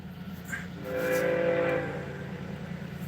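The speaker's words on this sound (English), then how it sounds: "Here comes the train." A CSX train rumbles by with a low steady drone, and a horn sounds once in the middle, swelling briefly before fading back into the rolling noise.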